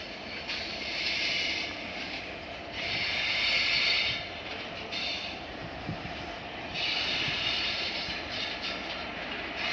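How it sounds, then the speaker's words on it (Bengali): Dhumketu Express train bound for Rajshahi pulling into the curved Ishwardi Bypass railway station, a broad steady rumble and hiss that swells and fades in waves, moderately loud and continuous with no voices. "ধূমকেতু এক্সপ্রেস আসতেছে রাজশাহী যাবে এটা ঈশ্বরদী বাইপাস রেল স্টেশন"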